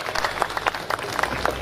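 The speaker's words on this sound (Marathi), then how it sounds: "एकदा जोरदार टाळ्या या दानदात्यांकरता" An audience at a community event applauds the donors, with dense, steady clapping that fills the room and has a faint murmur of voices underneath.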